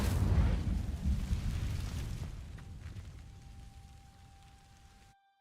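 Incendio fire spell cast on dry vines in Hogwarts Legacy: a loud, roaring whoosh of flame bursts at once, then gradually thins and fades over about five seconds before cutting off.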